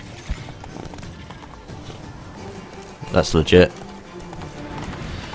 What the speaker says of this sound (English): I'm pretty sure that's how horses move in real life